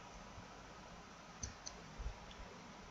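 A few quiet computer mouse clicks, single sharp ticks spaced apart over faint room hiss, close and soft with no talking.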